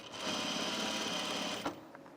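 A sewing machine runs a short close burst while stitching a blazer seam, a steady buzzing whir for about a second and a half that stops with a small clunk.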